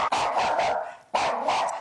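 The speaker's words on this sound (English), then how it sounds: "The dog's barking all the time." A pet dog barks in two loud, close bursts separated by a short pause, each burst a rapid run of sharp barks.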